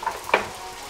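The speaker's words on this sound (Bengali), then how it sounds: "এগুলোকেও সুন্দর করে একটু হালকা করে ভেজে নেব।" Green and red capsicum and green chillies fry in a pan for fried rice, giving a soft, close sizzle with one brief clatter from the pan.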